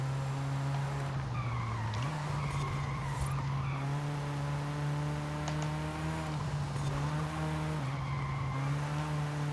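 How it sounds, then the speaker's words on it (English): Car tires skid and squeal in the racing game Forza Horizon 5, on a rivals run at Las Afueras, with sustained wavering screeches over a steady engine drone, loud and continuous throughout. "Don't want to be skidding there"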